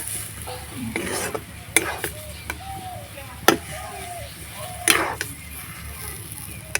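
Potato filling with chopped coriander leaves being stirred in a pan, with intermittent utensil scrapes and clinks at an irregular pace over a quiet kitchen background.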